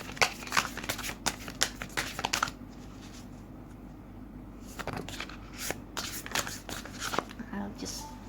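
Tarot cards being shuffled by hand during a card reading: bursts of crisp riffling and flicking clicks in quick runs, with a pause midway, close and fairly quiet.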